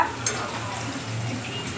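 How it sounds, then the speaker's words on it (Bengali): Papad frying in a non-stick pan gives a soft, continuous sizzle with light scraping and a faint clink near the start, low in level and close by. "এটা পাপড় ভাজা।"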